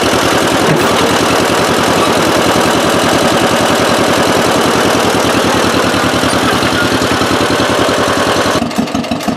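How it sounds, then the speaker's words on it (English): A bulldozer's diesel engine runs loud and close at a steady idle, its rapid rhythmic chug continuous throughout before dropping away near the end, with no voices. "I'm going to fire up my bulldozer"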